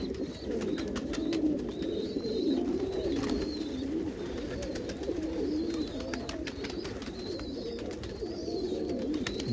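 Pigeons coo steadily in the morning while being fed corn, with overlapping low, throaty calls from several birds close by and faint chirps above them.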